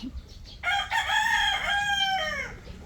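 A six-month-old Black Kelso gamecock stag crows once, loud and close, a long harmonic call that rises and falls before fading, with no talk over it.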